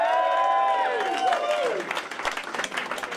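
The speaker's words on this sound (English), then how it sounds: "give a round of applause" Concert audience applauding after a band member is introduced, a sustained wash of clapping that starts over a fading held musical chord and continues alone, fairly loud and steady.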